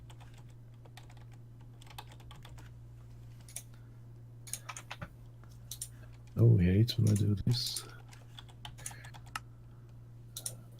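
Computer keyboard typing during a modded Minecraft session: scattered light clicks throughout, a brief louder burst of rapid keystrokes partway through, under a steady low hum, with someone talking over it.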